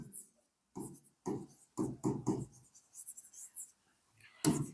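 Chalk or marker scratching on a classroom board during a relative pronoun lesson, in short bursts of strokes with someone talking over them.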